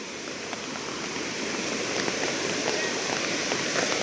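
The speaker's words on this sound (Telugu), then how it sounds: "దారి మధ్యలో కూడా ఒక వాటర్ ఫాల్ వచ్చింది" A newly formed waterfall beside a hiking trail in Uttara Karnataka rushes in a steady, unbroken roar of falling water that stays fairly close and even throughout.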